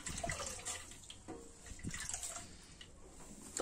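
Small garments for a Gopal ji deity are washed by hand in water, giving soft, continuous close sloshing and dripping with scattered light splashes and no talking.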